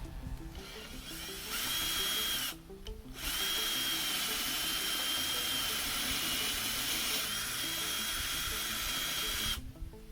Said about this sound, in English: we're going to take our 1/2 inch spade bit and we're going to finish this hole off